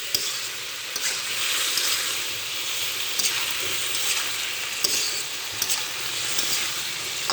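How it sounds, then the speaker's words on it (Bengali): Silver carp pieces and taro stirred and frying over medium heat in an open pan, a steady close sizzle with scattered scraping clicks from the stirring, no talk. "মাঝারি ধরনের আঁচে এভাবে নাড়তে থাকতে হবে, আর ঢাকলে হবে না।"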